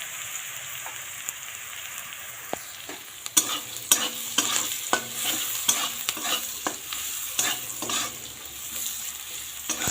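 Leftover rice with turmeric and salt fries in a pan, a steady close-up sizzle broken by repeated scraping and clinking as a spatula stirs the grains.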